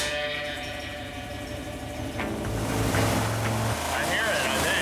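An engine with a penny inside it runs steadily with a loud, continuous rumble and drone. Over the engine there is a rising rattling and ringing from the penny being pounded inside.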